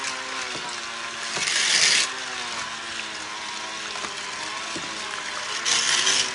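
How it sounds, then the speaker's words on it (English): An electric Flex Plus hand mixer beats an egg mixture in a bowl, a steady close whirring drone with a rattling, ratchet-like texture and two brief louder surges where the beaters catch. "Now we're gonna beat all this together."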